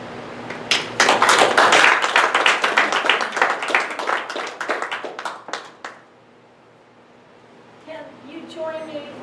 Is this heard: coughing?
no